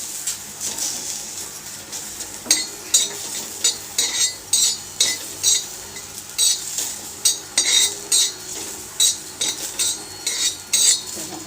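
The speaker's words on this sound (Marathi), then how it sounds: "ते पहिलं मी आलं घालते, कारण आल्याला जरा वेळ लागतो" Ginger fries in a pan while a metal spoon stirs it, a soft background sizzle broken by regular, fairly close scraping clinks of the spoon against the pan.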